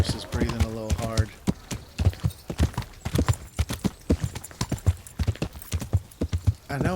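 Horse hooves clip-clop in a steady, close, loud rhythm in Kingdom Come: Deliverance, heard in the town of Rattay, with a brief whinny at the start.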